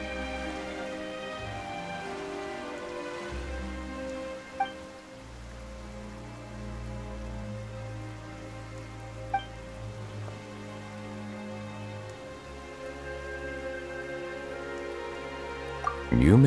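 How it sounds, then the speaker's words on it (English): Steady in-game rain in Genshin Impact pattering on a surface under a low ambient music bed, with a few soft clicks and a louder sound at the very end. "Why is it raining all of a sudden?"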